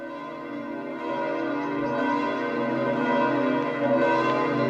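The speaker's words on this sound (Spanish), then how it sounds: "el tañido de las campanas de la Basílica de San Pedro" The bells of St. Peter's Basilica ring steadily with overlapping, sustained tones, a rich continuous peal that swells slightly louder toward the end.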